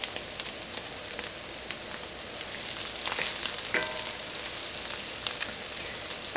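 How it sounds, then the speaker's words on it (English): Bacon onion jam sizzles steadily in a hot pan, and a hiss rises briefly as bourbon goes in, with scattered clicks from a stirring utensil, close up and with no talk. "we are going to add our bourbon"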